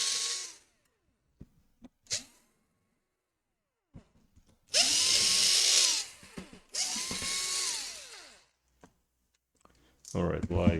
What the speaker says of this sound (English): You unscrew all the screws on the bottom.